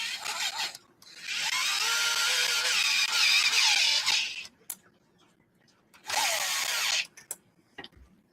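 A power drill drives screws into an RC truck chassis during a 10th-scale competition truck build: one long whirring run of about three and a half seconds, then a shorter burst, with faint clicks between.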